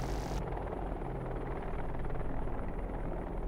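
Helicopter engine and rotor noise in the DCS flight simulator game, a steady rumbling drone with fast rotor chop, alone and without talk.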